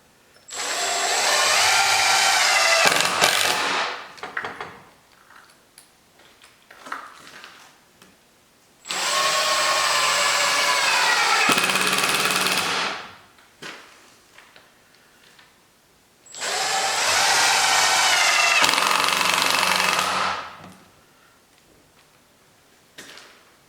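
A power drill drives 3-inch screws into a wooden ramp layer, three long loud whirring runs that rise in pitch and cut off sharply, with quiet handling knocks between them, close and without talk.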